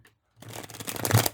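Tarot cards are riffled in a quick shuffle that starts after a brief pause, a close, dense fluttering burst that builds and then stops, with no speech.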